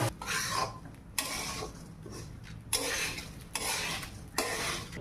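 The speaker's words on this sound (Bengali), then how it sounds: "নেড়ে নেব ভালো করে। 10 মিনিট চালটাকে একটু ভেজে নেব।" Rice fries in a pan for pulao while a spatula stirs it in soft, rhythmic scraping strokes, about four sweeps spaced a second or so apart, faint and close.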